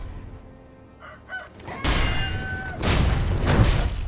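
A rooster crows and clucks in the Sekiro video game, first soft and distant, then loud bursts of crowing and flapping with game effects over them.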